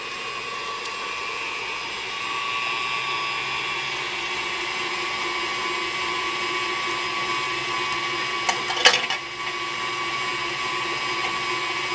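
A stand mixer whirs steadily while whipping raspberry syrup for chocolate raspberry clouds, a constant close motor drone with a brief rattling bump near the end.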